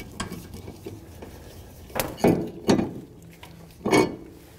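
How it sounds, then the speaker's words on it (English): Vice grips working a stuck pivot pin free on the suspension of an Integra Type R, a few sharp metallic clanks and scrapes spaced about a second apart, close and moderately loud. "Then I take a pair of vice grips and then work this pin free, because this pin is another pivot point that needs to be freed up"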